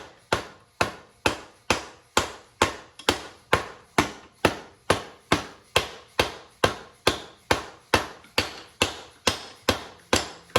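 Steady series of about twenty evenly spaced sharp metallic taps, driving a swing arm bolt through with an extension on a DRZ400SM motorcycle, each strike crisp and close with a short ringing decay.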